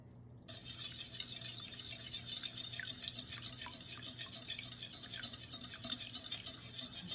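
Mexican vanilla being stirred into cake batter, a continuous wet swishing and scraping, close and steady with rhythmic strokes, no talking.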